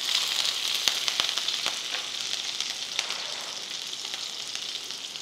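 Garlic, mustard seeds and green chili sizzle steadily in hot oil in a kadhai, with a continuous bright frying hiss and scattered sharp pops and crackles throughout, close and unaccompanied by talk.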